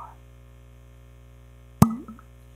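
A synthetic cork pops out of a tequila bottle in a single sharp, close pop with a short bassy thump and brief rattle after it, against near silence.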